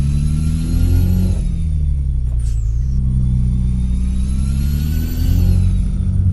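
A Kenworth W900 truck engine in Euro Truck Simulator 2 drives with a loud, steady diesel drone, its pitch rising, dropping with a gear change and climbing again, close and continuous.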